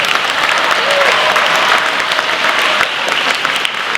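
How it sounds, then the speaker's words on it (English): A school audience claps steadily for class 1W after their assembly. The applause is dense and sustained for several seconds and fades slightly at the end. "Let's give 1W a big round of applause for their assembly."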